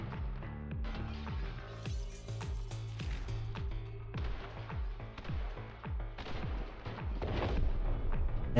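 Gunfire in The Hong Kong Massacre, a top-down shooter, with dense, booming shots coming fast one after another. The heavy, continuous barrage fills the whole stretch, with no talking over it.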